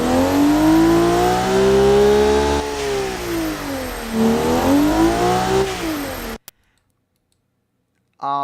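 Sporty minivan engine in BeamNG.drive revving with a massive exhaust, a loud droning tone that climbs, drops and climbs again before cutting off abruptly into silence, with a brief sound returning at the very end.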